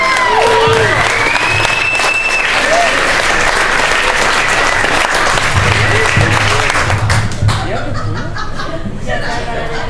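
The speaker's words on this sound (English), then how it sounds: "Big round of applause for the very funny" An audience at a stand-up comedy show at Busters applauds loudly and steadily, with scattered chuckles and cheers while a voice talks over the clapping.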